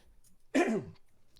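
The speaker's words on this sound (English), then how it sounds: "Pardon me. Had a cough there." A single harsh cough from a man at a sports podcast microphone, one short close burst, then quiet room tone and a faint click.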